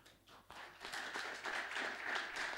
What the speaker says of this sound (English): So I'd like another round of applause for all our startups today.